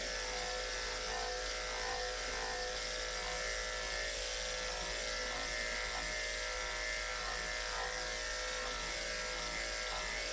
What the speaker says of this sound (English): Well, for the clippers to shave.